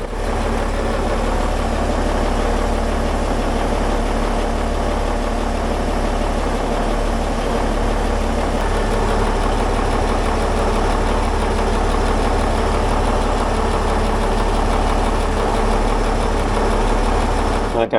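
Boat engine idling around 600 rpm during a dockside run-up before sea trials, a steady, loud, close mechanical drone with a low rumble holding evenly throughout, no voices.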